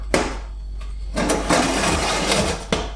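A motor-driven pizza stone turning inside a switched-off Spice Caliente / G3 Ferrari Delizia pizza oven fitted with a rotation mod, giving a steady close whirring hum with a few sharp clicks and knocks over three seconds.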